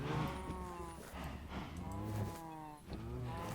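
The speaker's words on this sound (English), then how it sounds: "The top cow must be so hard to milk." Cows in the Minecraft video game moo in several drawn-out, overlapping calls, loud and close, with no talking.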